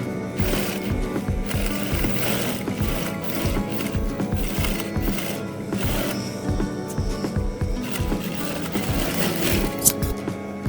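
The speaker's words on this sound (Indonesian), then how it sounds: "Terakhir, jahit pada sisi luarnya." A sewing machine stitches the outer edge of a hijab in a long run of rapid, rhythmic needle thumps, close and steady, with short pauses as the fabric is guided.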